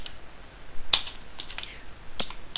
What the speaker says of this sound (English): this is where you're going to type your code in